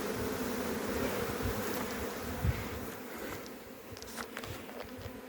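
A swarm of honeybees in a forest garden drones in a dense, continuous buzz, fairly quiet and steady throughout, with a few brief closer individual bees passing near the end.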